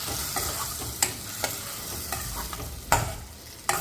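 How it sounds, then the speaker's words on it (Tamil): Close-up sizzling of dissolved tomato sautéing in a pan for South Indian rasam, with a steady hiss broken by sharp scrapes and clinks as it is stirred. "இப்போ கரைச்சி வச்சுருக்கிற தக்காளி சேர்த்து அதையும் நல்லா வதக்கி விட்டுக்குங்க."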